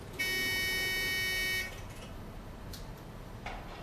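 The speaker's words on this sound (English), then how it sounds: "all my alarms will tell me, all the alarms on each floor will notify the user." A DVR security system's alarm, set off by an open window sensor, sounds as a steady electronic buzzer tone for about a second and a half, then stops, leaving low background hiss.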